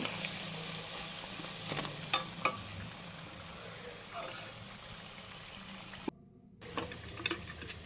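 Cauliflower pakoras frying in hot oil, a low continuous sizzle with scattered crackles and a few light clinks of a slotted spoon, briefly dropping out for a moment near the end.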